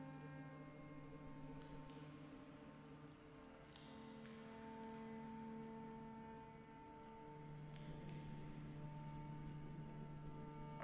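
Steady rain patters in the video game Rain World, soft and continuous, heard under sustained musical tones.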